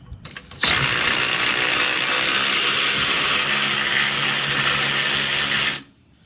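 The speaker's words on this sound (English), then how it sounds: "using my lovely Ryobi ratchet here, pull off this 14" A Ryobi cordless ratchet spins off a 14 fastener on a Kawasaki KRX 1000 front axle assembly, giving a loud continuous whirring buzz that runs for about five seconds after a few short clicks, then stops.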